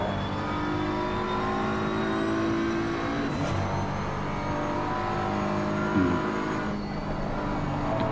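BMW M4 GT3 race car engine at Oulton Park in a racing simulator, a steady droning run with rising and falling pitch throughout, loud and continuous with no talk.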